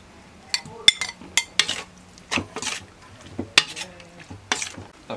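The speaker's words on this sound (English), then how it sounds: "ឥឡូវហ្នឹងខ្ញុំចាប់ផ្ដើមលាយគ្រឿងធ្វើអាម៉ុកបងប្អូន" Amok paste being mixed with coconut milk and fish in a Cambodian kitchen, with close, irregular clinks and scrapes of a utensil against a bowl and soft wet stirring, alone without talk.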